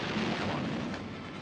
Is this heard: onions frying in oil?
no